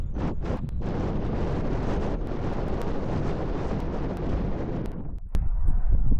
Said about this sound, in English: I'm just feeling the wind. It's in my face right now.